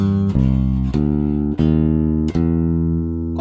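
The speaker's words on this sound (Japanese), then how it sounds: "これ非常にいいベースラインですね。" Jazz walking bass line on bass, a few deep plucked notes each ringing out under the next, close and loud with no talking.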